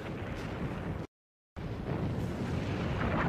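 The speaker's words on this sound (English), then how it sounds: "Concrete forts, once thought impregnable, collapsed from Big Bertha's one-ton shells." Heavy one-ton Big Bertha artillery shells from 1914 explode with a sustained, thunderous roar, a sudden cut to silence, then the loud rumbling blasts resume.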